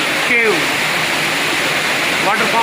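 Madhavaram waterfall near Aragonda pours between two huge stones, a loud steady broadband roar filling the whole clip, with brief whistle-like bird or voice chirps near the start and end.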